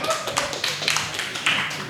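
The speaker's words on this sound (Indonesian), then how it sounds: "beri tepuk tangan yang meriah" Audience applause at a live Komunitas Pundit Indonesia evening show: a short burst of scattered hand claps from a crowd, mixed with background voices.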